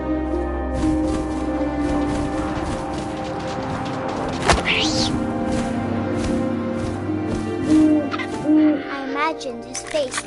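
Owl hooting within the video game What Remains of Edith Finch, set among wind and game ambience, with low sustained tones and a brief sharp thump midway.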